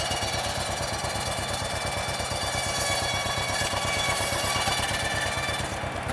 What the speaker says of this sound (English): Hear the tractor engine lug down?